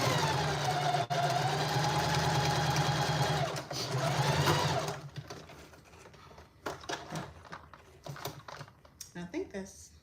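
A sewing machine runs in a loud, steady, close stitching burst while quilting a fabric book sleeve, then stops, followed by scattered clicks and handling sounds.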